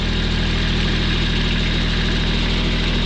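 A Kubota compact tractor engine running steadily, a close, loud, low throbbing idle with constant vibration and no voices.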